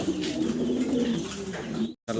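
Large pigeons kept as a breeding pair in a big cage give steady, continuous low cooing throughout, close and fairly loud, with a brief silent gap near the end.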